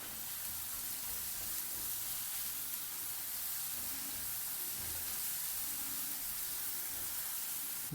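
Onions with salt sautéing in a pan for a traditional chicken roast, giving a steady, even sizzle and hiss that runs unbroken throughout, close and moderately loud with no talking.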